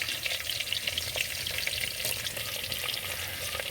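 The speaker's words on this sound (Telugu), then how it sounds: "తిరగమాత గింజలు అయితే వేసుకుంటున్నా తెల్లగడ్డ పాయలు పొరుకులు అయితే ఇంట్లో వేసుకుంటున్నా" Tempering seeds and garlic cloves frying in hot oil, a loud, dense crackling sizzle that holds steady with light stirring, for a crab curry cooked in a clay pot.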